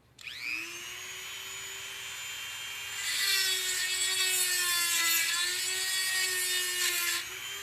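A Dremel rotary tool fitted with a diamond bit grinds through steel, its high steady whine starting alone and swelling louder and harsher about three seconds in as the bit bites into the metal, with no talk.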